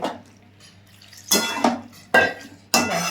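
A spoon stirs radish greens and a little water in a pan: three loud, close bursts of metal scraping and wet clattering, separated by short quiet gaps, with no voices.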